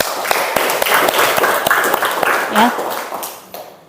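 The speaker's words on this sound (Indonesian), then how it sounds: "tepuk tangan buat Cinta" A classroom of students applauds a classmate, with a dense patter of many hands clapping for a few seconds that fades at the end, mixed with a teacher's voice and chatter.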